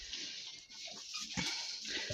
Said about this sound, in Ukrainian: біла свиняця собі вибрикує по цьому по оборі